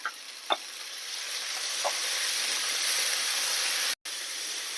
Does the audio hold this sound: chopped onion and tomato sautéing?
yes